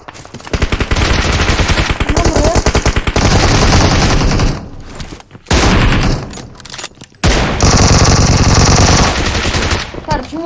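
Loud gunfire in PUBG Mobile, including shotgun fire, with rapid bursts of automatic shots that break off briefly twice before resuming.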